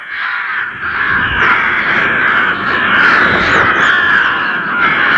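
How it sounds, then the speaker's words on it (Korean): A noisy flock of crows caws continuously from above, many harsh overlapping calls filling the air with no talk, on a plain beneath snow-capped Mount Ararat. "갑자기 요란스런 까마귀 떼들이 하늘로 솟아올랐다"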